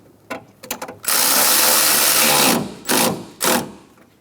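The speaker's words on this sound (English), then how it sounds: "Snug the bolt down." A powered tool snugs down a coolant reservoir bolt on a 2014-2018 Chevrolet Silverado 1500 5.3L V8, giving a few short bursts, then a sustained close whir, then two more quick bursts.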